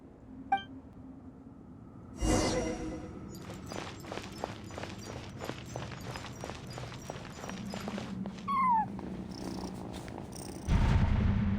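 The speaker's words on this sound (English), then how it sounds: "And so, I followed the cat's cries to find my way out." A cat in the Genshin Impact game cries and purrs, with a low steady purr running under a string of light ticking steps, plus a few louder bursts and a brief plaintive meow partway through.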